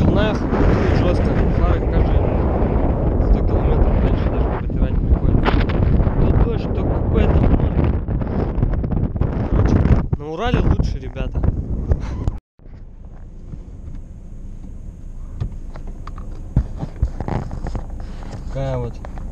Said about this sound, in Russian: Ветрище жесткий.